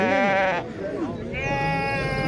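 Sheep bleating at a weekly livestock market near Khemisset, Morocco, several strong wavering bleats close by, loud over crowd noise and people talking.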